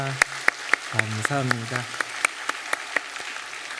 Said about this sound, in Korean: 우리 찬양대 위에 격려의 박수 한번 하겠습니다.